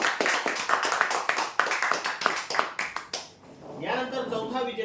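An audience at a weekly prize-draw event claps for a winner with a burst of rhythmic, fairly close clapping for about three seconds. The clapping fades, and a voice speaking over a loudspeaker takes over.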